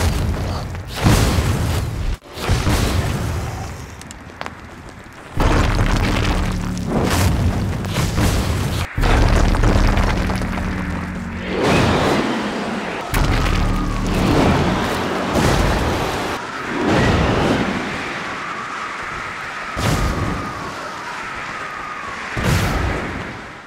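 Fire and wind effects on objects in the indie video game Son of Nor: deep booming whooshes and rumbling bursts swell and fade repeatedly, loud and heavy, with sharp cracks marking some impacts.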